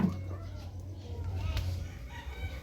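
Chickens cluck softly amid outdoor farm background noise, with a faint crow-like call mixed in.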